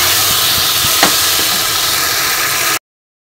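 Tomato and ginger masala for a rohu fish curry with drumsticks sautéing in hot oil, a dense, close, continuous sizzle with a few light stirring taps, alone, stopping abruptly near the end.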